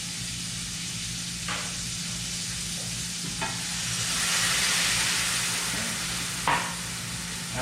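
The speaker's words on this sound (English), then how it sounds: "That's when we're going to add our white wine." White wine poured into a hot pan while making carbonara sizzles and hisses steadily, with a broad frying sizzle that swells in the middle and a few clinks of stirring.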